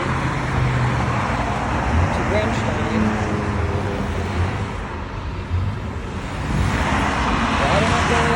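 Steady, loud road and engine rumble inside a moving car fills the whole stretch, with a person talking over it and faint music in the cabin.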